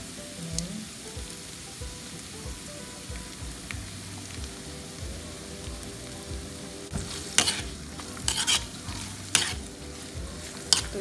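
Carrots and cabbage stir-fried in a pan for pancit canton, a steady sizzle with soft scraping stirs, then sharper clattering spatula strokes toward the end, close and fairly quiet.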